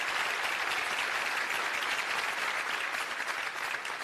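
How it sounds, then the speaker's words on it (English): A large audience at a county State of the County address applauds in a dense, even wash of clapping, steady and sustained from start to finish. "Can we even applaud?"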